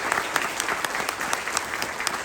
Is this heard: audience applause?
yes